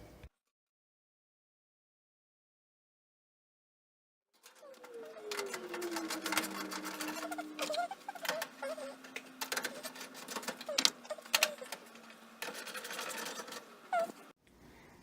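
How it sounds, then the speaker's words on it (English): A repaired clothes dryer runs after a few seconds of silence, with a steady low hum under rapid rattling, ticking and tumbling clatter that continues for about ten seconds. "after setting the dryer back, plugging it in, turning on the knob, and pressing the start button, the dryer functions perfectly"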